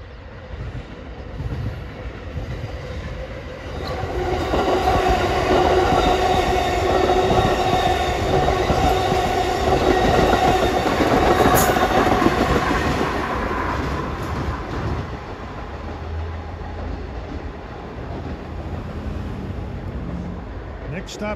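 An Amtrak passenger train from New York to Harrisburg passes close by, with a long loud rumble and rattling wheels that swell and then fade, plus a brief squeal.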